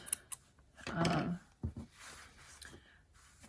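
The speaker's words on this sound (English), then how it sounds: "So basically just a strip is what you would cut." Scissors snipping a strip of paper for reinforcing a spine, a few sharp close clicks and a longer rasping cut, then scattered softer snips and rustles.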